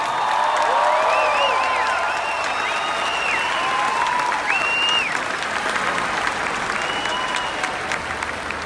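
Dense concert crowd applause for the keyboardist at a tour show in Monterrey, steady and loud throughout, with whistles and scattered cheers rising above the clapping.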